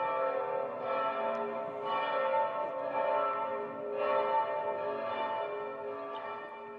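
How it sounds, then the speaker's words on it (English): Church bells of Saint-Séverin in Paris ringing for Mass: sustained, resonant tolling with overlapping strikes every second or so, steady and fairly loud, ringing alone without voices. "So these are the bells of Saint-Séverin in Paris,"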